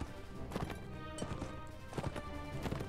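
Hooves of cavalry horses in Mount & Blade: Warband battle, a faint irregular clatter of several horses galloping at a distance.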